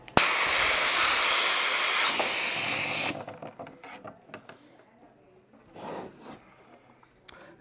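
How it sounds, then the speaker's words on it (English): Hiss from opening the first valve on a Rotocube valve actuator: a loud, close, sustained pressurized air hiss for about three seconds, cutting off sharply, followed by quieter mechanical clicks and handling noises. "we can open the first valve"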